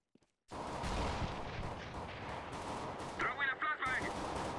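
Rapid bursts of fake gunfire from a decoy grenade in a competitive shooter match echo loudly and continuously, with dense overlapping shots and a few sharper metallic pops near the end.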